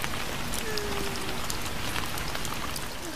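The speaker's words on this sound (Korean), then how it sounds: "빗방울 떨어지는 소리가 튀김 소리처럼 들렸다고." Rain falls steadily onto a surface in a dense, crackling patter much like frying, continuous and moderately loud throughout with no voices.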